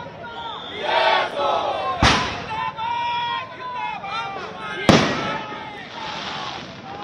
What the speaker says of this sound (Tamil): மும்பையின் பல்வேறு பகுதிகளில் ஏக்நாத் ஷிண்டேவின் ஆதரவாளர்கள் பட்டாசு வெடித்து ஆட்டம் பாட்டத்துடன் வெற்றியை கொண்டாடினர்.